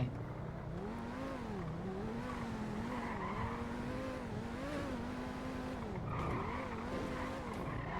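A car in the video game GTA V revs hard and skids, its engine whining up and down in repeated surges while the tires squeal through turns, loud and continuous over eight seconds.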